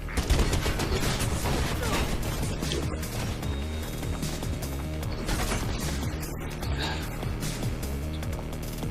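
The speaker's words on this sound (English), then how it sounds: "Faith, they have a goddamn machine gun." Machine gun fire in the Mirror's Edge video game rattles in dense, continuous bursts under a busy mix of mechanical game sounds and music, loud and sustained throughout.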